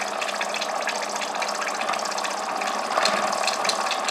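A small steam engine runs with a continuous hissing rush and a faint rapid mechanical ticking, steady throughout.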